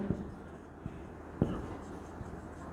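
Chalk or marker writes on a board in a quiet classroom, a few soft taps and strokes spaced unevenly, faint against low room noise.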